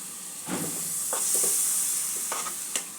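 Coconut paste for a Bengali sandesh sweet is stirred in hot ghee, giving a steady soft sizzle with scraping strokes of the spoon against the pan.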